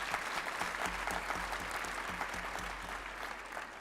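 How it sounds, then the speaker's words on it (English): Audience applause at an evening welcome event, steady dense clapping from a crowd for about four seconds without speech. "give a big round of applause to this group that we have here this evening"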